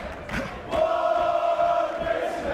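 Pool fans at the Mosconi Cup sing a terrace-style chant in unison, a sustained tuneful crowd voice holding notes steadily at moderate distance, loud and filling the hall.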